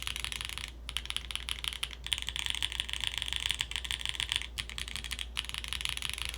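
Mechanical keyboard with Mocha SWK switches being typed on, a fast, close stream of crisp clacky keystrokes with a couple of brief pauses, steady and moderately loud.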